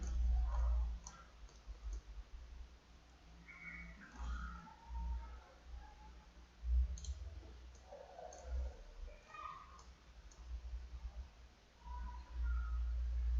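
Mouse clicks from pattern-making work in CLO 3D 2.4 software, scattered soft taps at an irregular pace over low steady background hum.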